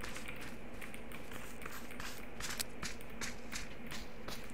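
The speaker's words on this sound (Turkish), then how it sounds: "Burada burada ayak sesi var." Faint, quick footsteps in the PUBG video game on the Sanhok map, a soft steady patter of steps under low background noise.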